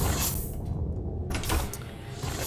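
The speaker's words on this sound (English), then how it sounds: "The auto doors is kind of cool, but with these particular doors and the sounds they make and stuff" Automatic sliding doors on a ship in Space Engineers slide open with a loud, continuous mechanical whoosh and hum, swelling and easing over a couple of seconds with no voices.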